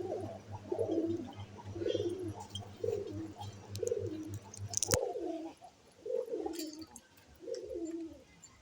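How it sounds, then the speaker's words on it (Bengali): Pigeons at a pigeon farm coo in repeated low, rolling phrases at a steady pace, close but fairly quiet, with one sharp knock partway through. "এখানে কবুতর খাইতেছে চারদিকে পানি দেওয়া আছে"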